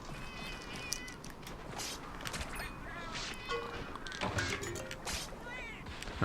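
A cat character in Monster Hunter X gives a few short, high meows amid game effects and background music, with a player talking over part of it.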